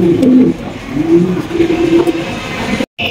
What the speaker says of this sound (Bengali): ব্লুবার বিউটি কবুতর দেখতে পাচ্ছি